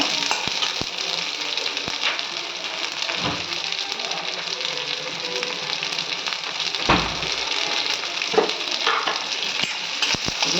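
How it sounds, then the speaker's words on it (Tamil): Cloves, cinnamon, pepper, cumin and fennel frying in a hot pan for a jackfruit seed and potato gravy: a steady, close sizzle with occasional louder crackles and stirring scrapes, no talking. "இதுலேயே கிராம்பு போட்டுக்குங்க பட்டையை போட்டுக்குங்க மிளகு ஜீரகம் சோம்பு"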